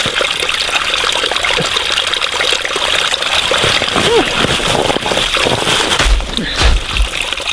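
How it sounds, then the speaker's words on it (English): A small outdoor stream trickles steadily while water is scooped into a canister, with splashing bursts near the end; a voice is heard briefly over the running water. "just over there, there's a little stream"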